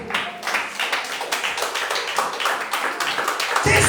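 Church congregation clapping together to acclaim the word during a service, a steady run of sharp, bright claps filling the room, loud and close, lasting several seconds.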